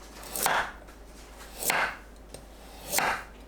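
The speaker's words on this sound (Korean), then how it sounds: "당근을 채 썰어 주세요." Carrots being julienned with a knife on a board: three separate, evenly spaced slicing strokes, each a short crisp cut landing with a dull thud, close and without speech.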